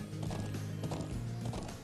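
Several horses trot together in the video game Trails of Cold Steel, their hooves clip-clopping in a steady synchronized rhythm under a continuous background hum, close and fairly loud for a brief moment.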